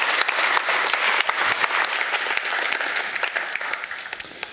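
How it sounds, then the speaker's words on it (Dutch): Hearty applause from an audience at a KennisCafé talk evening, dense steady clapping with crisp individual claps standing out, holding loud and even before thinning slightly toward the end. "ik zou nog één keer heel graag een hartelijk applaus willen voor Gijs"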